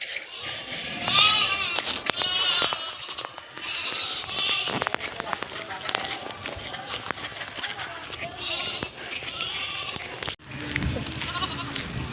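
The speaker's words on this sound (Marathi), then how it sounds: "तर शेळ्या आहेत समोर." Goats bleat several times close by in a farmyard with chickens, short wavering cries scattered over clattering and knocking noises, with people talking throughout.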